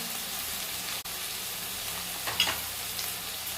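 Onion masala with turmeric, red chilli powder and salt frying in a pan, a steady close sizzle with a brief stir-scrape midway and a small clatter, no voices.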